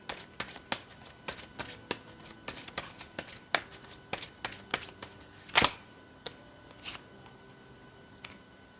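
Tarot cards are shuffled and riffled by hand close up, a quick irregular run of crisp snaps and flicks with one heavier burst midway, quiet and with no talking.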